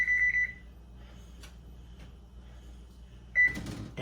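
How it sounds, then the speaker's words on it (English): Kitchen oven timer beeping in a quick run of high electronic tones, then falling quiet with faint rustling before a single short beep returns, followed by a clatter nearby. "So I'm going to set the timer for 20 minutes."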